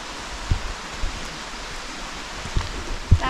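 Rain falls by a creek on a wooded trail near Pine Grove Furnace, a broad, even hiss of water, with a few soft low thumps from handling or footsteps.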